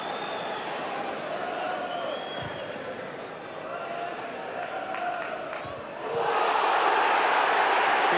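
A stadium crowd at a 1991 League Cup semi-final between Leeds United and Manchester United murmurs under commentary, then swells into a louder, sustained disgruntled roar after a foul.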